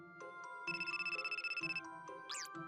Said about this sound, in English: A phone call from Saeda?